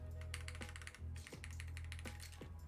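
Typing on a HEX 3CV2 mechanical keyboard fitted with warped GMK keycaps, producing quick clusters of crisp, close keystrokes with thocky low-end clacks, alone with no talk.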